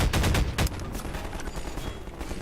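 Gunfire in Half-Life 2 rings out in a few loud bursts at the start, then softer scattered shots echo on more distantly.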